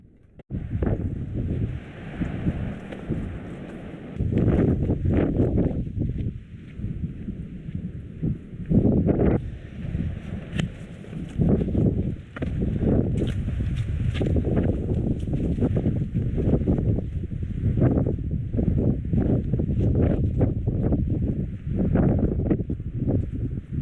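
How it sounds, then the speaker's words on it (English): Strong gusting wind on the Pembrokeshire coast during a hike in a yellow weather warning, loud buffeting roar against the microphone that rises and falls continuously, no talk. "heading into the wind on the way down to Dale"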